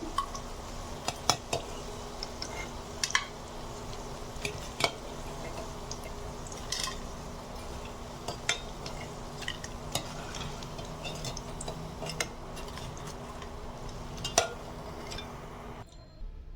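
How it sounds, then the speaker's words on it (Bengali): Fried cauliflower pakoras lifted out of a pan one by one, with repeated metal clinks and scraping of a utensil against the pan over a steady low frying hiss, close and continuous. "পাকোড়াগুলো আমার ভাজা হয়ে গেছে, আমি এখন একটা একটা করে পাকোড়াগুলো তুলে নিচ্ছি।"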